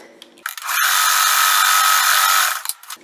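A sewing machine runs in one steady, loud, close burst of rapid stitching, joining quilt sashing to a block with right sides together, with brief handling clicks before and after.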